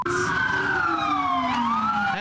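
A loud wailing ambulance siren sweeps slowly down and back up in pitch, close by, with faint road noise underneath.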